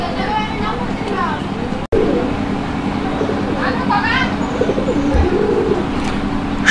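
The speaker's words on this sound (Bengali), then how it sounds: "আমরা এই মুহূর্তে দেখতে পাচ্ছি এখানে আরো এক জোড়া কবুতর" Pigeons at a market, jet black and other breeds, coo in soft repeated bursts close by, under someone talking and a low steady hum.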